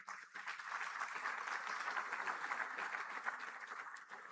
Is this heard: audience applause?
yes